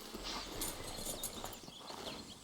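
Horse hooves clip-clop at a steady walking pace in the Red Dead Redemption 2 video game, soft and fairly distant amid a faint ambient outdoor bed.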